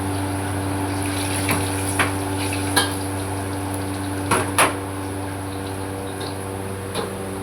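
Steady hiss of food frying in hot oil for kway teow, with occasional sharp clinks of a utensil against the pan.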